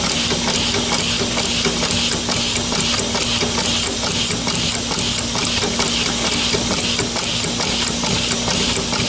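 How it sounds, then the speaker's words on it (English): An air compressor builds pressure with a loud, steady hissing roar and a constant hum that run unbroken throughout, close by with no talking. "We're going to go ahead and let the air compressor build up to a much higher PSI."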